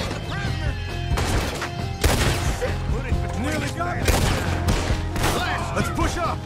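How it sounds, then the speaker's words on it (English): Gunfire in Red Dead Redemption 2 during an outlaw shootout, a dense volley of sharp rifle and pistol shots cracking in rapid, irregular bursts with crashing impacts, loud and close over shouting voices. "We'll have to shoot our way out."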